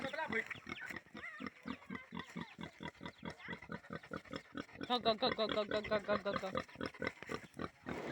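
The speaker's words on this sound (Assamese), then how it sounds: "দেখিছেনে গাহৰিটো ইমান ডাঙৰ হৈছে" A large pig grunts in a rapid, rhythmic series of short low snorts, close by, with a voice speaking over parts of it.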